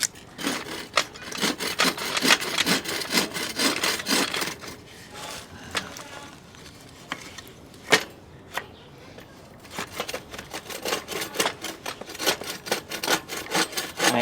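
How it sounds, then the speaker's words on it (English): Backyard tree trunk wood cut with a bow saw, loud close rasping back-and-forth strokes in a quick steady rhythm, pausing midway with a few scattered knocks before the sawing resumes. "I've been cutting up the larger items here with this bow saw."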